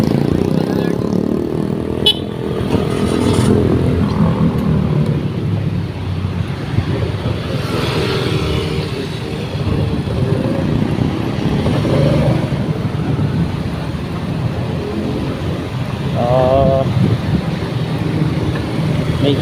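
Morning road traffic near Araneta in San Juan: a steady rumble of cars, motorcycles and trucks with occasional horn toots, while a person talks over it.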